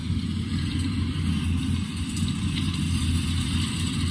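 Combine harvester running in a rice field, a steady mid-loud engine drone with constant low rumble and no break for the whole stretch.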